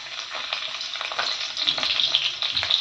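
Chopped garlic sizzles loudly in hot ghee, giving a dense steady crackle with soft stirring noises underneath. No one speaks.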